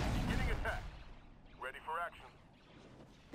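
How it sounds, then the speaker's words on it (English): Artillery fire in the Star Wars strategy game Empire at War, a heavy low boom opening the moment and rumbling out before a voice speaks over the quieter battle noise. "Artillery open fire."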